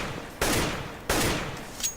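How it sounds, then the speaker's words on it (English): Two single tapped gunshots from a rifle in the video game CS:GO, sharp loud cracks about two-thirds of a second apart, each trailing off in a brief decay, with no talking. "Tapping is where you shoot one bullet at a time"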